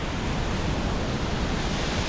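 Waterfall near Rudranag temple in the Parvati Valley on the Kheerganga trek: a dense, steady rushing roar of falling water, constant and fairly loud, with no voices.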